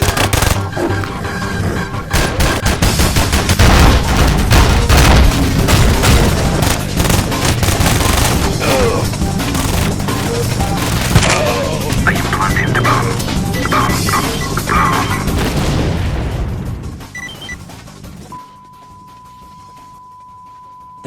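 A bomb blast in S.T.A.L.K.E.R. sets off a loud, sustained burst of crashing explosions and rattling debris lasting many seconds, then fades abruptly into a low hum.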